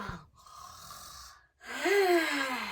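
A voice imitates a sleeping dinosaur snoring: a drawn-in breath, a pause, then a long, loud, rasping snore rising and falling in pitch, close and alone.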